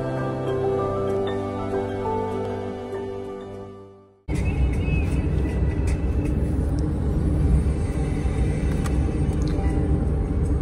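Car cruising along a newly built highway from Ujjain to Kota: a steady in-cabin drone that fades out briefly, then returns as a louder, rougher road rumble with constant tyre and wind noise.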